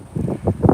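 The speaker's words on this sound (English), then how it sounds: "It is very windy out here, guys." Strong wind gusts across a microphone outdoors in a compost garden, rumbling in low swells, loud and close.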